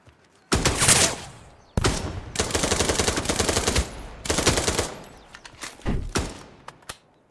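Enemies in a video game demo open fire in several bursts of rapid automatic gunfire, loud, close bursts separated by short gaps, ending in a few scattered single shots.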